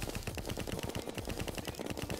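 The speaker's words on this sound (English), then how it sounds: "I'm squirting him with the fucking snail gun." Rapid automatic fire from the snail gun in Terraria, a fast stuttering burst of shots repeating steadily and loudly throughout, with no voices.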